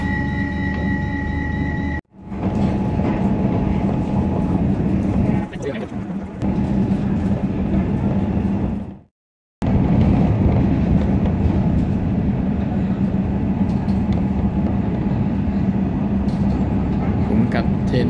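Loud, steady rumble of an electric suburban train running toward Melbourne's city centre, with two brief dropouts to silence partway through and a voice talking over the continuous rolling noise.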